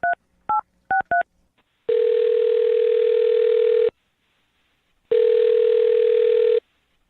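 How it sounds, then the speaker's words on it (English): Four quick keypad dial tones, then two long steady telephone tones separated by a pause of silence, loud and clean. "I'm going to dial her phone number right now"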